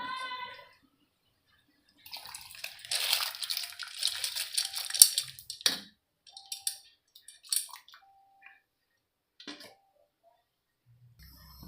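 Washed lentils (dal) tipped into a pot of water while cooking katachi aamti: a few short, close splashes and wet sloshing sounds with brief pauses between them, then it goes quiet.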